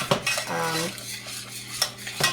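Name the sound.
stirring fudge candy in a pot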